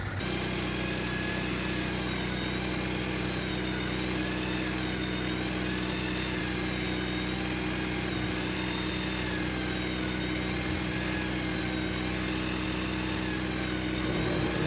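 A spinning stropping wheel used to sharpen a knife hums with a steady motor drone, a constant loud whir that stays even throughout with no voices.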